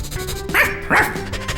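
A cartoon dog barks twice in quick succession, loud and close, each bark a bright yappy burst over a faint background hum, with no talking.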